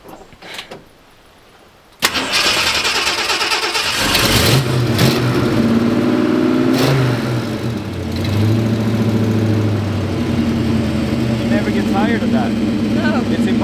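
A car engine starts and revs during a sound check, a sudden loud burst followed by a sustained throaty drone with rising and falling revs, with people talking over it.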